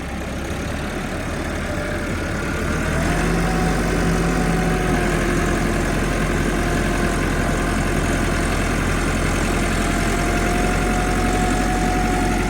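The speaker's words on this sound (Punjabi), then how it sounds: "ਸੁਪਰ ਸੀਡਰ ਜਨਾਬ ਕਮਾਲ ਦਾ, ਲੋਡ ਚੈੱਕ ਕਰ ਲਓ, ਕੋਈ ਧੂਆਂ ਨਹੀਂ, ਕੋਈ ਕੁਛ ਨਹੀਂ, ਦੂਸਰਾ ਗੇਅਰ ਹੈਗਾ ਤੇ ਸਮੂਥ ਚੱਲਦਾ ਪਿਆ" Tractor engine pulling a super seeder in second gear runs with a steady, loud low drone and an even mechanical hum, continuous and close throughout with no breaks.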